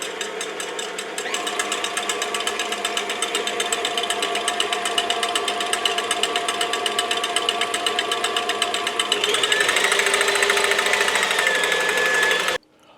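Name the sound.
electric mixer whipping heavy cream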